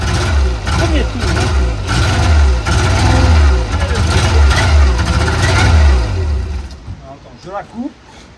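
An old Renault or Peugeot car engine, left abandoned for years, catches and runs with a steady rough low rumble and a few revs, close by, before cutting out near the end. Someone talks over it.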